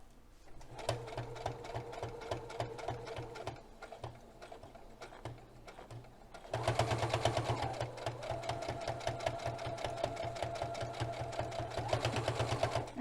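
A sewing machine stitches a fabric potholder in quick, even bursts of needle rattling, pausing briefly for a turn before resuming a longer, louder run of steady mechanical stitching, close and alone.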